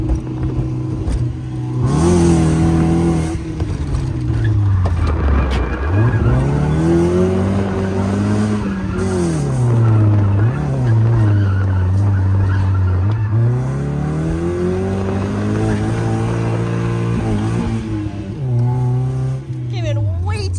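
A drift car's engine revs and whines up and down continuously, with tires squealing through slides, loud and close, while people talk over it.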